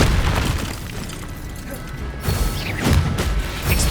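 Confringo fire spell cast in Hogwarts Legacy, hitting with booming, crashing blasts: two or three loud impacts land in the second half over a dense, rumbling combat background.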